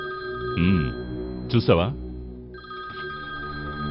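A telephone rings in a Telugu film scene, its bright electronic trill coming in short bursts between and under a man's speech.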